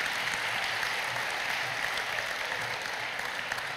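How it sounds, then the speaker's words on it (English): A large indoor audience at an Indiana statehood day celebration claps steadily in a dense, sustained round of applause, fairly distant and even in level throughout, with no voices rising above it. "Another round of applause for Delaney."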